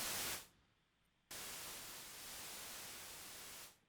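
Bursts of harsh synthesizer white noise in Logic Pro hiss on and off; a short burst cuts out, then a long sustained hiss plays before stopping abruptly.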